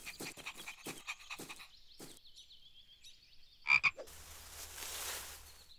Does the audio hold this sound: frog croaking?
yes